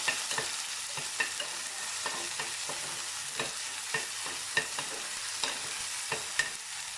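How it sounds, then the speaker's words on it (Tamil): Ginger garlic paste sautéing with onions in a pan for mutton uppu kari: a steady low sizzle with repeated sharp scrapes and taps of a spoon stirring, fairly close, no talking. "இதையும் பச்சை வாசனை போகிற வரைக்கும் லைட்டாக கொஞ்சம் வதக்கி விட்டுக்கோங்க"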